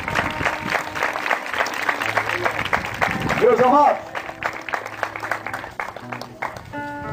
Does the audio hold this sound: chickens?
no